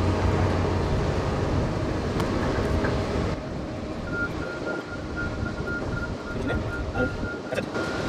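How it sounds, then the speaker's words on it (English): Wind blows steadily outdoors on a rooftop during skylight repair work, a broad constant rush buffeting the microphone, with a faint tone entering partway through. "Now the wind always blows when I want to do this."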